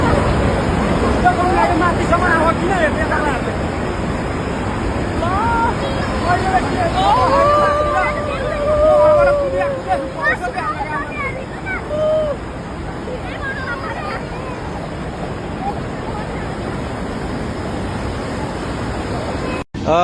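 The flooded Trishuli river in Nepal rushes past in a steady, loud roar of churning water, with voices talking over it throughout.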